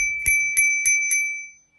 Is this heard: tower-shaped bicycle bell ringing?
yes